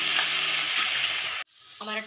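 Chopped tomatoes hit hot oil in a pan for Punjabi tadka-style Maggi noodles, giving a loud steady sizzle close by that cuts off abruptly, followed by softer frying and stirring.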